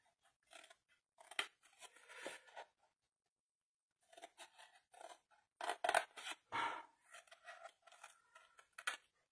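Small scissors snipping the glue tabs of a paper craft piece, close and quiet, with irregular clusters of short crisp cuts and paper rustle broken by a pause.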